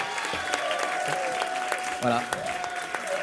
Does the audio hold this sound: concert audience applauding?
yes